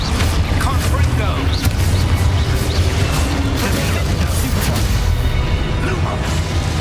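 Confringo blasting spell from Hogwarts Legacy gameplay, a dense run of booming blasts and crashing bursts amid a busy combat din, loud and continuous, with a voice calling out over it.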